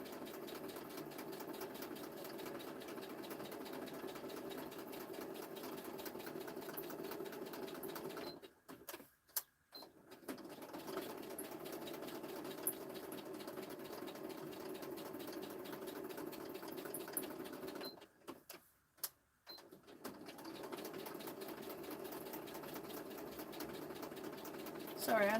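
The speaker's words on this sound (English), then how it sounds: "I know stitching is really boring." A domestic sewing machine runs in a steady, continuous whir while stitching at a live craft session, pausing twice briefly before resuming, with faint background noise throughout.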